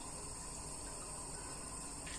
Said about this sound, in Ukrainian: на розігріту пательню ми даємо 200 г олії